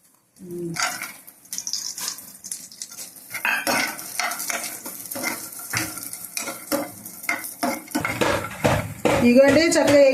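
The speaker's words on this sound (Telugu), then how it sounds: "వాల్నట్స్ తర్వాత బాదం పప్పు జీడిపప్పులు తర్వాత ఇగోండి కిస్మిస్లు ఇవన్నీ కలిపి నేనైతే ఫ్రై చేస్తున్నాను ఇందులో" Walnuts, almonds, cashews and raisins fry in ghee, a soft sizzle broken by frequent clinks and scrapes of a metal spoon stirring in the pan, with someone talking over it.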